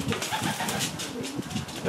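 Pigeons cooing in a racing loft: soft, repeated low throaty coos from nearby birds, mixed with a voice talking over them.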